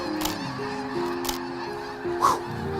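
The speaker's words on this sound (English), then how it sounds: "Snow geese in flight" Snow geese in flight give a few scattered honks over a steady low background, fairly faint and spaced apart.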